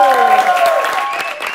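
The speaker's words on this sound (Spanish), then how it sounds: "necesito que le deis un aplauso a mi amigo y camarero" A studio audience gives a quick burst of applause for a waiter named Kikillo on a talk show, brief dense clapping blended with a voice speaking over it.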